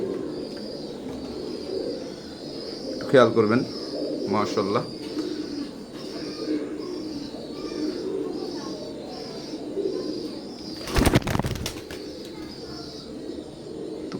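Teddy pigeons give soft, steady cooing near the mic, broken by two brief bursts of flapping wings and one loud sudden flutter as the startled birds jump; someone speaks briefly over the birds.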